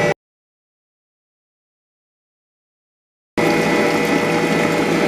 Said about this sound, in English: And we're going to mix that. 2 minutes on medium speed.